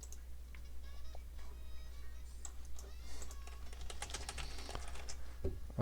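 Quick, irregular key clicks on a computer keyboard while a note is typed into a Kubuntu desktop, fairly faint and close, with no talking.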